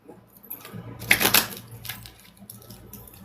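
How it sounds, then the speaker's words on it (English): A deck of playing cards is shuffled, with a quick burst of dense, crisp riffling clicks in the middle and softer flicks and rustles before and after, close and alone. "while I shuffle these cards"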